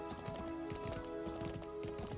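Horse hooves clip-clop in a steady, rhythmic trot in the video game Mirthwood, close and moderately loud over a layer of tonal game music, with no speech.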